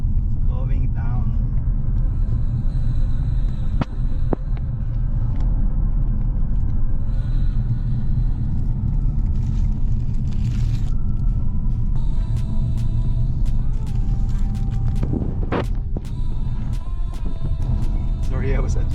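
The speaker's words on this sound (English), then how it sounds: "So we just drive slow so you don't skid out" A car rolls slowly down a cold mountain road in Great Basin National Park, a steady low rumble of engine and tires filling the whole stretch with a few brief clicks and knocks on top.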